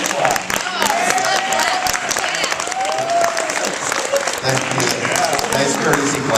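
Fans at an anime convention panel in Orlando, Florida clap and cheer in a sustained burst, with voices and chatter mixed in throughout.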